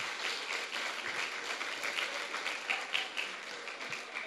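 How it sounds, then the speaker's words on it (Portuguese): A church congregation applauds together in sustained, dense clapping that stays steady and fairly loud throughout, with no voices standing out. "Vamos aplaudir a Deus pela vida do patriarca Enoque"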